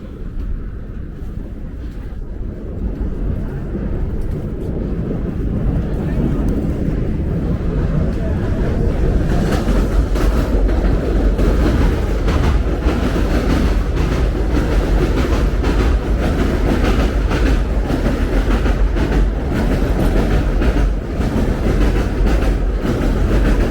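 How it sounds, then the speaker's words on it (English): Loud, continuous rumble of a subway train passing close overhead on an elevated line at 86th Street in Bensonhurst, Brooklyn, with wheels clattering over a rail gap throughout. "You can hear the wheels hitting the gap there."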